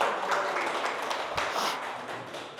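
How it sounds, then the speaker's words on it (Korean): An audience at a lecture applauds with a short burst of steady clapping, moderately loud and fairly even throughout. "박수 한번 주세요."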